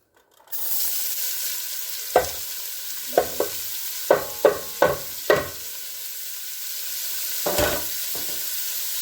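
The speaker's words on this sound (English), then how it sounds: "So, taking the 2 onions, go ahead and throw them in" Chopped onions dropped into hot bacon grease in a pan, giving a steady sizzling frying hiss with a series of sharp stirring scrapes and clatters spaced through the sizzle, loud and close.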